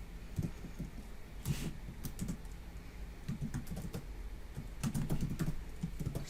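Rapid, irregular keystrokes on a computer keyboard while code is typed out, close and steady for several seconds with short bursts of clacks and no talking.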